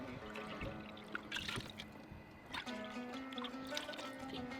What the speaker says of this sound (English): Put 2 cups of water, or 3, let's see.